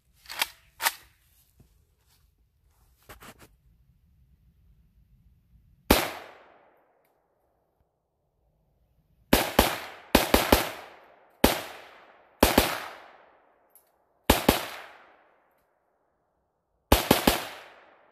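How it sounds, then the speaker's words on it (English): An AK rifle fires at a target outdoors, a few single loud cracks and then quick pairs and triplets of shots with short echoing tails and quiet gaps between them, no voices. "We're just going to go back take this AK right here and we're going to have some fun with that thing."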